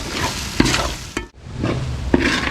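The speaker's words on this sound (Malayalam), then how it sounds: "ഇതിൻ്റെ ചെവിട്ടിൽ പിടിക്കാതെ നന്നായിട്ട് നമ്മൾ ഇളക്കി കൊടുത്തുകൊണ്ടേ ഇരിക്കണം." Garlic, ginger, green chilli, mustard seeds and curry leaves sauté in hot oil for a tuna fish pickle, with a loud continuous sizzle and repeated scraping strokes as the mixture is stirred.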